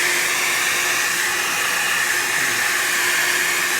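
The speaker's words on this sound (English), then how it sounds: "I'm going to turn the dryer off here in just a second" A hair dryer blows on alcohol ink artwork, a loud, steady whooshing hum running without break.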